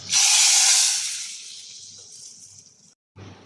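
A loud burst of sizzling hiss as hot oil tempering is poured onto sour lentil dal, fading gradually over a few seconds before a brief silence and a faint return.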